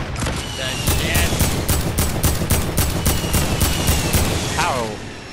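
Sustained automatic gunfire in a video game rattles in rapid bursts of loud sharp shots close by, trailing off near the end, with no voices over it.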